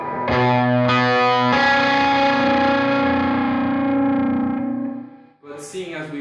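Dry baritone guitar part with no effects engaged, played alongside two other guitars on a studio recording; sustained, loud chords ring out continuously for about five seconds, then cut off into a brief noisy tail.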